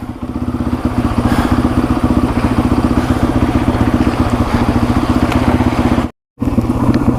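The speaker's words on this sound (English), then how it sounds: "now it's running on its own. I'm going to let her warm up a little bit" A 1987 Yamaha TW200 dual sport motorcycle idles while warming up. The single-cylinder engine thumps in a close, loud, steady rapid beat with a mechanical clatter, and there is a brief dropout near the end.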